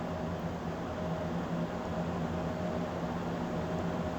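Bacon fries in a pan while buffalo chicken soup cooks, giving a steady, even hiss-like sizzle that holds at the same level throughout.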